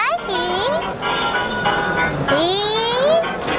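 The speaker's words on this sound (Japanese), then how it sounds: "音楽と汽笛。" A Thomas the Tank Engine sound toy at a Tokyo toy show plays a tinny electronic melody with swooping whistle-like tones, close and loud amid busy crowd chatter.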